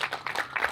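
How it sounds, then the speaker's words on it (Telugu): Audience clapping at a public talk or speech event in India, a short burst of applause from a crowd, moderately near and steady, with no talk over it. "ఇవే ఇంకోసారి పెద్ద క్లాప్ ఇవ్వండి ఆయన"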